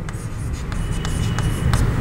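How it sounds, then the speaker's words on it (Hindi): Someone writes on a board during a chemistry lecture, producing quick, scratchy strokes in short bursts over a low room murmur, with faint speech in the background. "जो टेक्स्ट बुक में है वो लिखेंगे"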